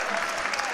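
Basketball bench players clapping during a college game, a brief burst of dense close applause with crowd noise and a faint voice underneath.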